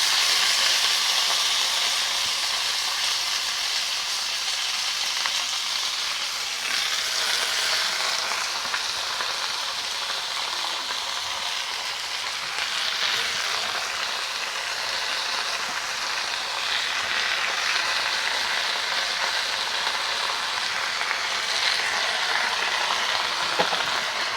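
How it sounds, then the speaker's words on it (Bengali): Bottle gourd greens frying in a hot pan, a continuous loud, broadband hiss and crackle of oil that holds steady and close for the whole stretch, with no talk. "হালকা ভাজা হয়ে যাওয়ার পর এখন আমি শাকগুলো দিয়ে দিচ্ছি।"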